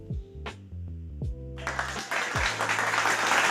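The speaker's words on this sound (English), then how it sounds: "Let me clap it up for you." Applause on a live stream starts partway through, a dense burst of clapping that rises and holds after several low tonal sound-effect notes.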